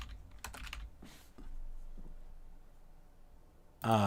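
Bursts of typing on a computer keyboard, quick clusters of key clicks separated by pauses, fairly quiet and close, ending with a sudden louder noise.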